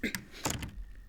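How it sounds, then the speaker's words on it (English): A house door kicked shut, giving a short cluster of knocking thuds and a brief rattle close by, then a quiet tail. "let me just kick it closed"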